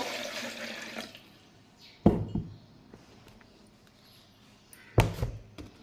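Roughly 300 ml of water is poured into a container for a Herbalife shake: a brief splashing pour at the start, then two hollow knocks as items are set down in a quiet room.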